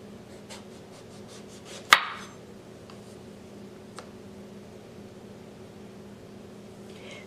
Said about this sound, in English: Let's pull the stem away from the eggplant and with a sharp knife, cut off